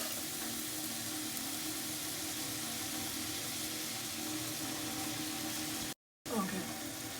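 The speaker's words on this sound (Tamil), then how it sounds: "நான் அதை கொட்டி இப்போ தண்ணி ஊற்றி கரைக்க போகிறேன்" Water pours steadily onto sugar in a pan to dissolve it for sweet mung dal balls, a continuous close rushing hiss broken by a brief pause near the end.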